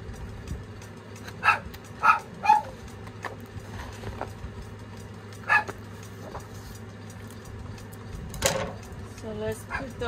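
A dog indoors lets out several sharp barks, a quick cluster of three followed by two more spaced a few seconds apart, heard over someone talking and paper rustling.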